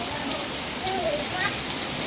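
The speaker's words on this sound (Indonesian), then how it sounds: "semoga saat-saat berbuka nanti hujan sudah berhenti" Steady rain falls as a dense, even hiss of drops, continuous and fairly loud throughout, with faint background sounds mixed in.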